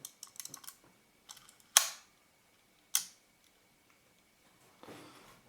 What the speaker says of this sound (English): So when I cock the shutter, see what's actually happened.